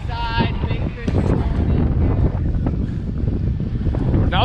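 Strong wind buffets the microphone on the open, windy side of a lake while walleye fishing from a boat, a steady loud roar with water slapping beneath, constant throughout.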